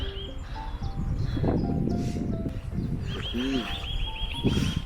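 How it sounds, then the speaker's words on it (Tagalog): Bird calls and chirps sound amid outdoor background noise, with a short repeated whistled call standing out in the middle. "Narinig nyo ba yung ibon?"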